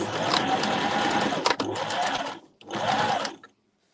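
A sewing machine runs close by in two bursts of rapid, steady whirring stitching with a brief pause between them, then falls silent.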